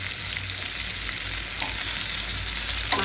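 Fish fries steadily in hot oil, a continuous close sizzle with faint crackles and occasional small pops throughout, for a Bengali fish curry.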